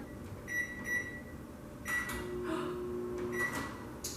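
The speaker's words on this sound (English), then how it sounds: "I'm gonna use my microwave timer" Several short electronic beeps from a microwave keypad as its timer is set, in small clusters, with faint clatter and a brief steady hum in between.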